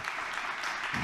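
Brief, dense applause from a conference audience at a panel on diversity in the creative industries, steady clapping throughout the short moment.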